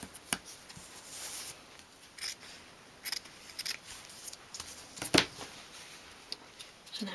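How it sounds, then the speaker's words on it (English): A small piece for a 1/12 scale dolls house sofa is cut by hand, giving a string of short, close snips and clicks at irregular intervals in a quiet room, with no speech. "Then cut a second piece to that size."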